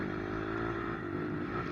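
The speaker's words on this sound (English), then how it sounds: "And he's just revving it up at this guy." A dirt bike engine revs hard at an enduro race, a steady loud buzzing drone that holds throughout with slight pitch wobble, close by.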